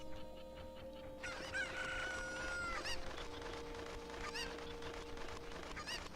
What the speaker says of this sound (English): Good little chicken.